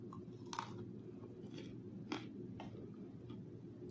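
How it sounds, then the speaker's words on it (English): Crisp potatoes are chewed close up at a dining table, a few sharp crunches and bites scattered over a quiet low hum, faint overall with brief louder snaps. "I know you can hear that crunch."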